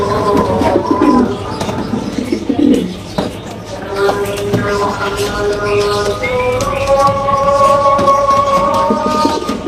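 Pigeons at a home pigeon farm, kept for breeding, coo repeatedly in soft, low, rolling calls close by. A sustained melodic voice carries on in the background throughout.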